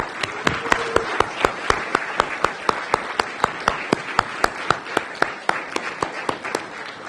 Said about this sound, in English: we want to give these young people a round of applause